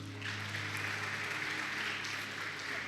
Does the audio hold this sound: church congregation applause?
yes